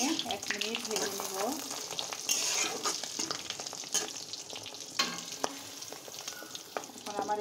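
Egg fries in hot tempering oil with loud, busy sizzling and crackling up close, joined by stirring clatter and sharp clinks of a utensil, while a voice speaks briefly.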